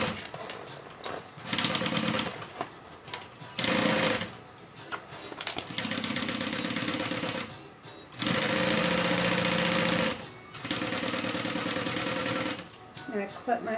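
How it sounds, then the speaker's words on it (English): A sewing machine stitches vinyl on a backpack in several bursts of rapid mechanical chatter, each lasting one to two seconds, separated by short pauses, heard close and fairly loud. "I'm just going to go a little slower, just so I don't accidentally sew through my vinyl."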